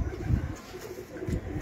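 Pigeons on a rooftop in Karachi give two soft, low coos, one near the start and another near the end, over faint background noise.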